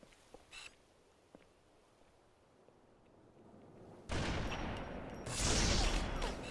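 Sniper rifle fire in the video game Halo 2: faint distant pops early on, then two loud, close shots that burst in and ring out near the end.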